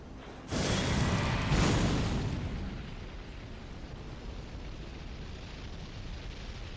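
Death Flare weapon skill from the video game Elden Ring going off as a loud, booming fiery blast that swells twice in quick succession, then fades into a long rumbling tail of crackling flames.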